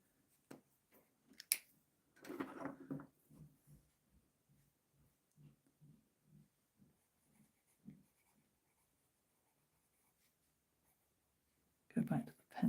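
A pencil scratching across paper during a drawing session, in a series of soft, quiet strokes with short pauses between them and a couple of louder rustles.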